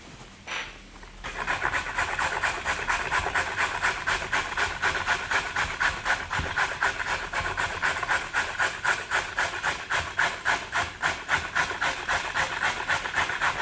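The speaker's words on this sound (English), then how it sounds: "you're just gently sweating them down like a light sauté" Carrots gently sweat in a pan for a carrot and ginger soup, giving off a soft, continuous sizzling hiss overlaid with a regular, closely spaced pulsing texture that holds steady after a quieter start.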